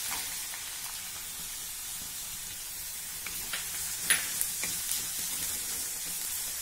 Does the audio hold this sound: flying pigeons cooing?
no